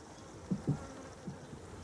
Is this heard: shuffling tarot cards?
no